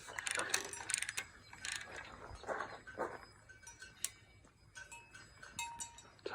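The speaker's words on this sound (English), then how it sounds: "now I'll just put the wrench back on" A wrench works a bolt on a 1956 McCormick-Deering FC-21 Fast-Hitch sickle mower, giving a run of close, quiet metallic ratcheting clicks and clinks in an irregular rhythm with no talking.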